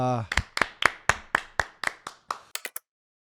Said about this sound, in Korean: 여러분들 박수 한번 치죠.